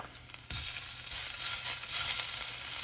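Soft, crackling sizzle of onions, pork and shrimp frying in a hot pan for Vietnamese crispy pancakes, starting after a brief quiet moment and continuing steadily, fairly faint.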